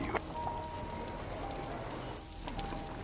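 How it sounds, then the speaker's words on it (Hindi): Stormy rain falls around a village house at night, a soft, constant hiss of drops pattering on surfaces, distant and even throughout. "इस तूफानी बारिश में जैसे उसे आराम करने की उम्मीद दिख रही हो।"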